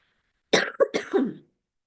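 A woman coughs a few times in quick succession, close and clear, in an otherwise quiet setting.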